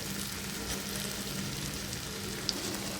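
Pieces of bitter gourd frying in a pan, a steady, soft, close sizzle with faint crackles throughout and no talk.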